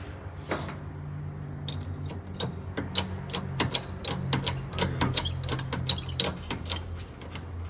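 An engine hoist works while lifting a 1951 Mercury engine during a swap, giving a series of irregular ratcheting clicks and metallic clinks that come faster toward the end, close by over a low hum.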